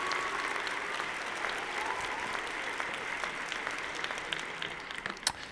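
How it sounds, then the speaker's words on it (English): Applause for Bonnie during a crafting session on building a scene with stamps and dies: a soft, steady patter of clapping, fairly faint and distant, with a few louder claps near the end. "And an applause for Bonnie."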